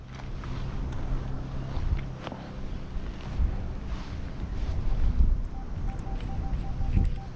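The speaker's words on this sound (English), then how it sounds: "It's blowing a gale up here." A strong gale buffets the microphone on a hilltop meadow, roaring in uneven gusts with rumbling low-end bursts and a few soft knocks in between.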